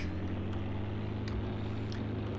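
An old IH Farmall tractor in Farming Simulator 2013 drives along, giving a steady, droning low engine hum that stays even and unchanging throughout, with no talking.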